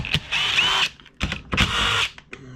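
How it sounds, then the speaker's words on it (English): A handheld power drill whirs in two bursts, spinning an engine whose recoil starter is stripped, with a short rattle and pause between the high-pitched runs, close and loud. "drilling a hole in here so you could start it with a drill, because my cord gear, my recoil starter broke"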